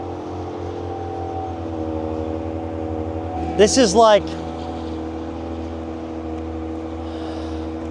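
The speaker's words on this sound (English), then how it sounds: "Let's remote start this thing, see if this thing's got a rumble." Ram pickup with the Hurricane engine idling after a remote start, a steady low droning rumble running throughout, with a brief burst of nearby speech in the middle.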